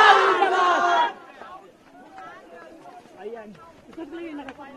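Villagers in Bihar shout protest slogans against an LJP MLA: a loud burst of many voices chanting together for about a second, then quieter scattered talk and calls from the crowd.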